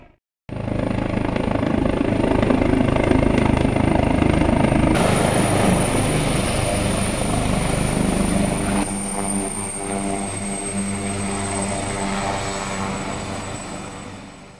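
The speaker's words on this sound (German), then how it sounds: "So, auf jeden Fall kreist jetzt hier der Hubschrauber." A helicopter circling overhead near an accident site, its loud, steady rotor and engine drone continuous for the whole stretch with a slight shift in tone partway through.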